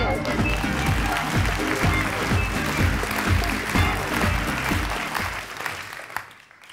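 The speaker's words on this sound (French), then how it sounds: "C'est vous qui déciderez grâce à vos applaudissements." A television studio audience claps to cast a vote for a reality-show contestant, dense sustained applause with rapid overlapping claps that fades out near the end.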